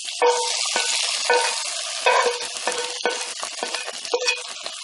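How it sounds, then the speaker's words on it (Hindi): Hot tempering of browned onions and leaves is poured over kadhi pakora curry, setting off loud, crackling sizzles that come in uneven waves and then settle into a steady fizz. "इस बघार को कड़ी के ऊपर उंडेल दें"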